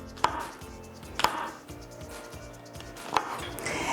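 A knife cuts mushrooms into quarter-inch slices on a board, making three crisp, separate chops spaced a second or more apart over a quiet room background.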